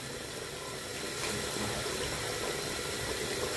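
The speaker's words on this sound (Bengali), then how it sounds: "আমি একবারে বেশি করে পানি দিয়ে একবারে এর ভিতরে দিয়ে দিচ্ছি।" Water is poured in a steady, gushing stream into a pot of halim mix and braised meat, a continuous splashing rush that grows slightly louder partway through.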